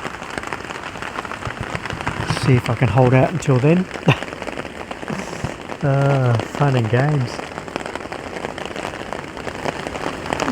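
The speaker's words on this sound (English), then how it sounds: "And the rain's just coming in on a certain angle." Steady rain patters on a tarp at a night campsite, slanting in at an angle, a dense continuous hiss with crackling drops, while someone talks briefly over it.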